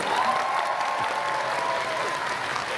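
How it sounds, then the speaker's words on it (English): Steady applause from a convention panel audience, a dense wash of clapping filling the room without a break and with no voices over it. "Please, round of applause, please."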